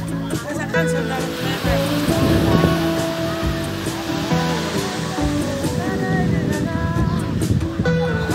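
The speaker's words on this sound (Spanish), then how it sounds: "Ahora estamos aquí grabando el mar." Sea waves surge at Playa Rincon in Samana, a loud continuous wash of surf under people talking, with music playing nearby and laughter rising and falling throughout.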